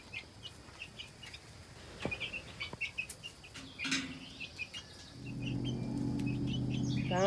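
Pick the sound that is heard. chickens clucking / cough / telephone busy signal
chickens clucking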